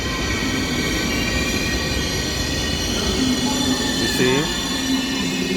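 A train rolling through platform 2 at Prague main station, a loud continuous rumble with rising metallic wheel squeals toward the end, and someone speaking briefly over it.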